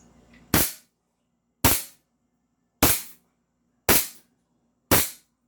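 A Desert Eagle Deadpool Edition toy pistol fires five sharp, loud cap-gun-like shots, evenly spaced about a second apart, each with a quick decaying tail and near silence between.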